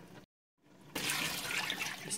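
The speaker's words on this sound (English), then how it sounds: "So I'll go fill a bowl and fill that water right back up to the rivets." Water poured from a bowl into a stock pot of bone broth splashes in a brief, fairly loud rush after a short silence, then continues as a steady gushing pour.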